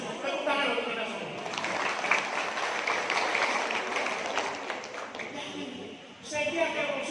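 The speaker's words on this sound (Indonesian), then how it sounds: "Tepuk tangan untuk kita semua." Audience at a Muslimat NU leadership inauguration applauding in a sustained round of clapping, with voices mixed in and a speaker's voice returning near the end.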